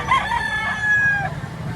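A young stag rooster at a Philippine poultry auction gives a single loud, close crow lasting just over a second, over a busy background of low murmuring.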